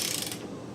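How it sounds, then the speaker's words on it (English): A reamer being turned by hand in a spark plug hole on a Honda Odyssey, giving a short, steady scraping grind of metal cutting with light oil, close up with no talk. "just putting a little bit here on the reamer as we drive it further down"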